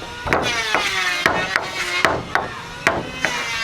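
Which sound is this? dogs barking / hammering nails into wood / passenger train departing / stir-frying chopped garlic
hammering nails into wood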